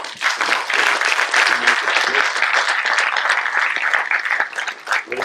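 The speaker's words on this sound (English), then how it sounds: "let's end with a round of applause" An audience at the close of a book release and discussion event at an international centre in Pune breaks into sustained, dense applause, loud and steady throughout, with some voices mixed in.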